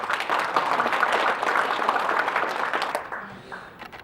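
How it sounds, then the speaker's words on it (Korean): An audience at a commemorative forum applauds to welcome a speaker: a sustained wash of clapping that fades out toward the end. "하윤수 회장님을 박수로 환영해 주시기 바랍니다."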